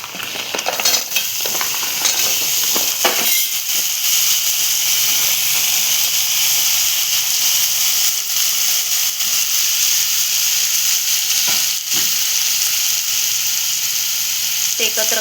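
Fish sizzles steadily and loudly in a pan with cooked onion, a continuous frying hiss broken by occasional stirring clinks, with faint talk underneath.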